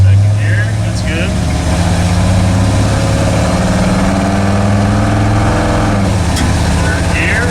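A rebuilt car engine runs steadily while the car is driven and shifted through the gears, a continuous low drone with a mild rise in revs, heard throughout.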